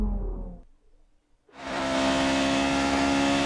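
A 1972 Lotus Formula One car in F1 2018, a low rumble fading into a brief near-silence before the engine bursts into a loud, sustained high-pitched rev.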